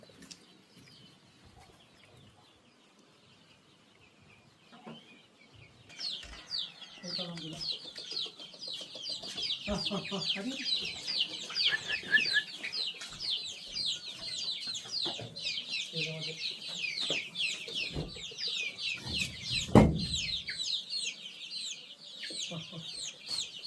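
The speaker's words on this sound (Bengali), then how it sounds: "মুরগিগুলো খাবার খাচ্ছে দেখছেন, তারা খুব আসলে ক্ষুধার্ত, সেগুলো খুব দ্রুত খাবার খাচ্ছে।" Hungry desi chickens on a poultry farm cluck and chatter busily while pecking at feed, a dense near chorus of fowl calls with occasional flapping and a louder squawk near the end, no speech.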